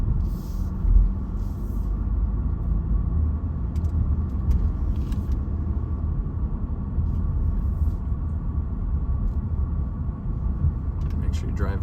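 A car rolls slowly down a driveway ramp at the Holiday Inn at Jantzen Beach in Portland, Oregon, with a steady, close, low engine rumble throughout and a voice talking over it.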